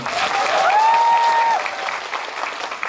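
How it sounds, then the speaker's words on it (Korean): Applause from a cinema audience at a stage greeting in a Megabox theater in Daegu, dense steady clapping filling the room, with a whistle-like tone rising over it before the clapping thins out toward the end. "두 배우분께 큰 박수 한번 부탁드립니다"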